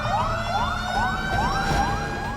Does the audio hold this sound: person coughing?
no